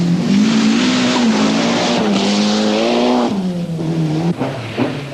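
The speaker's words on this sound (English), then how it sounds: "Another new car to Britain is the Colt Lancer. Following the current trend, its engine is turbocharged." A turbocharged Colt Lancer rally car at the 1981 RAC Rally in Britain, its engine revving loud and close, pitch climbing through gear changes with brief drops between shifts.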